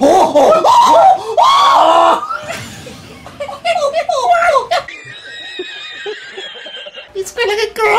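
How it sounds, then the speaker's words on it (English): A character in Super Smash Bros Ultimate screams during a Banjo-Kazooie versus Wario match: loud, high, warbling cries in the first seconds, then game effects and a sustained tonal chime, with excited voices and laughter throughout. "It screamed like a girl!"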